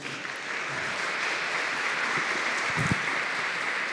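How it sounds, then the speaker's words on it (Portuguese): Applause from a church congregation greeting a woman, a steady broadband patter of many hands held at an even level for the full stretch. "Palmas para essa mulher"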